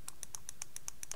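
Nine quick, evenly spaced mouse right-clicks during Minecraft play, each a crisp, close, light tick, alone over a faint background hum.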